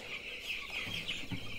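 Chickens cluck and chirp continuously inside a dim poultry shed where the flock is crowded to one side, a close, steady murmur of many birds with no talking.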